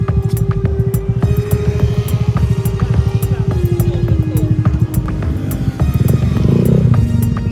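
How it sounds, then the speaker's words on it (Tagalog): A motorcycle-powered tricycle taxi engine idles and revs with a low rumbling rhythmic putter, close and fairly loud, pitch sagging then rising again near the end. "Motor lang, motor."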